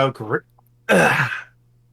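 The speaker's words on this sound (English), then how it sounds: "Coughing fit." A voiced throat-clearing sound, then a harsher, louder cough-like burst after a short pause, close to the microphone over a low hum.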